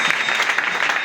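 A church congregation applauding together, a dense, steady burst of clapping close by and loud, with no voices standing out.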